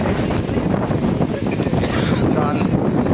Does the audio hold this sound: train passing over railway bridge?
no